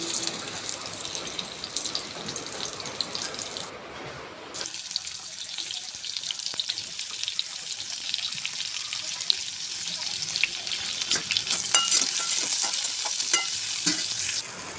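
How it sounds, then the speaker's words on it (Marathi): Chopped onions fry in a little oil in a kadhai as they brown toward golden. A soft continuous sizzle carries clattering stirring scrapes, and it grows busier and louder toward the end. "एका कढईमध्ये आपण थोडंसं तेल टाकून कांद्याला छान असं परतून घ्यायचं गोल्डन होईपर्यंत।"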